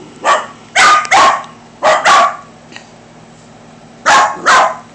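A dog barks loudly and close by in short bursts, mostly doubled barks with brief pauses between them, and no voices over it.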